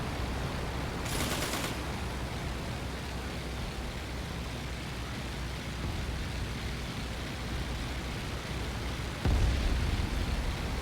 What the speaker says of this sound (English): You can hear the gunner still firing.